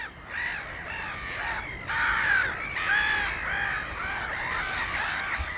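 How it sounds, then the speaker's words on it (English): Mediterranean gulls displaying on the scrape at Minsmere give a series of loud, nasal, repeated calls, several overlapping in quick succession. "Mediterranean gulls display."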